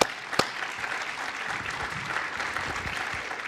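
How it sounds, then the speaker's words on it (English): An audience at a civic event applauds for a few seconds. The clapping is steady and moderately loud and follows a couple of sharp opening claps. "how about an applause for Christy?"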